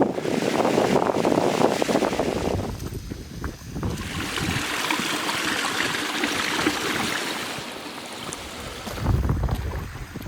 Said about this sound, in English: so we've just crossed Dovestone Brook